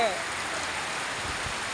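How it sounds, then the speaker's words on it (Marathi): Heavy rain in the village of Yedshi pours as a steady, dense broadband hiss that fills the short stretch, with a person's voice briefly present over the downpour. "पाऊस पडायला लागला गावात जोरदार पाऊस चालू आहे"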